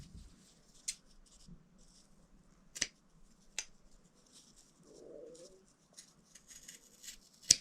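Scissors trim fabric for a sewn oven mitt, giving a few faint, sharp snips spaced irregularly over a quiet room background.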